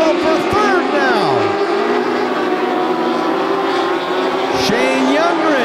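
Dwarf race cars battle in a tight pack at Grays Harbor Raceway, engines droning loudly and continuously with passing whines rising and falling, while an announcer talks over the racket.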